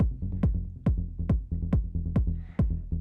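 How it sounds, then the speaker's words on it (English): Bass one-shot sample triggered on an Elektron Digitakt II, repeating in a steady rhythm of about seven punchy low hits, each with a sharp click attack and short decay, played alone. "let's go pick a new bass one-shot"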